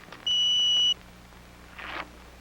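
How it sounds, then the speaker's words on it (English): A Polaroid countdown Land camera gives a single clear electronic beep lasting under a second, close and loud against a quiet room, followed later by a brief soft rustle. "And now we wait for the beep."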